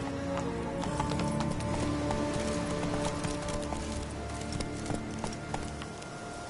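Roach the horse galloping in The Witcher 3, rapid hoofbeats at a steady pace under a dense bed of game ambience and music, moderately loud and continuous.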